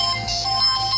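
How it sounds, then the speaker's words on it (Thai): A ringtone preview plays from a Kospet Optimus Pro smartwatch, a short bright electronic melody with steady tonal notes, close and clear with no voices. "เอาไม่ใช่เพลงครับเป็นลิงโทนหรือลิงโทนตัวไหนนะครับเราสามารถเลือกได"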